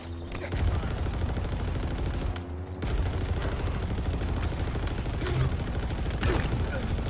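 Rapid video-game gunfire in Halo Infinite, including ballistic rounds, crackles in dense bursts of shots with a brief lull midway, loud and close throughout.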